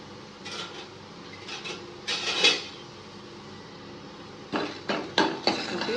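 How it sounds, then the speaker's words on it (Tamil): Coriander seeds and dried red chillies being dry-roasted in a pan for Chettinad masala, with short bursts of scraping, stirring and clinking of the spoon against the metal pan amid quiet pauses. "வாசனை வரைக்கும் நல்லா வறுத்துக்கலாம்"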